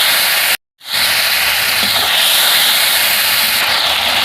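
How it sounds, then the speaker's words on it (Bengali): Cumin and coriander powder frying in a pan with a splash of water, a loud steady hiss and steam sizzle broken by one brief silent gap. "অল্প একটু জল দিয়ে দেবো। ভালো করে কষিয়ে নেব।"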